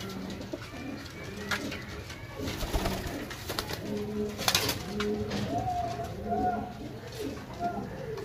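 Domestic pigeons at a pigeon keeper's loft coo in low, repeated rolling phrases throughout, with someone talking over them and other birds calling faintly in the background.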